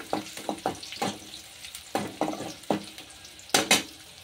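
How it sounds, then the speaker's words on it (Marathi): Green chillies fry in hot oil for egg bhurji, giving a sizzle broken by a dozen sharp stirring scrapes and clinks against the pan, close by and moderately loud. "मिरची छान अशी आपण फ्राय करून घेऊया."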